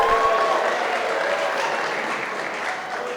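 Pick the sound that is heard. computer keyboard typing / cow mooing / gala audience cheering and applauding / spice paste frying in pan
gala audience cheering and applauding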